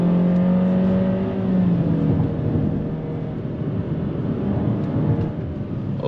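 A Honda HR-V V Spec Turbo powers around a hill-climb corner, its engine a loud, steady close drone whose pitch sags and rises as it pulls through the bend.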